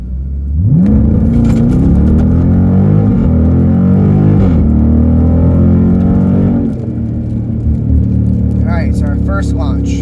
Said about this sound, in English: we're going to do our 0 to 60 and then 30 to 0